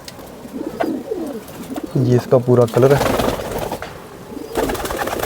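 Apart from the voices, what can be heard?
pigeons cooing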